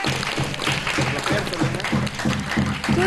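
An audience at a Tamil stage event claps along, a steady crowd patter with sharper individual claps repeating at a regular rhythm, a voice talking over the applause throughout.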